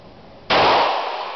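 A single loud pistol shot cracks out during firing practice, sharp and close, followed by a long ringing, reverberant decay.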